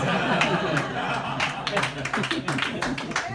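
Audience at a comedy club clapping steadily for a few seconds, a dense wash of applause with some chuckles mixed in, fairly close and loud.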